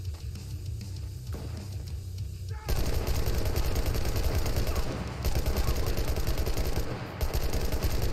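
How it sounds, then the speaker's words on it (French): Dense automatic gunfire in the Enlisted zombie survival mode, starting quieter then erupting into a loud, continuous rattle of rapid shots from about the third second onward, with brief dips. "Oh, on tire des balles, tabarnak."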